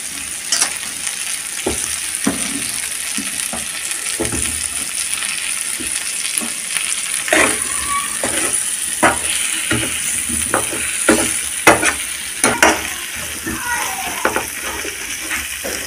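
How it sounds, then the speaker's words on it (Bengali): Potato and ridge gourd sauté in a pan, a steady sizzle broken by repeated scraping and tapping strokes of a spatula stirring at an irregular rhythm, close and fairly loud, with some speech under it. "আমি ঝিঙেটা দিয়ে দিচ্ছি, একসঙ্গে কষিয়ে নেব।"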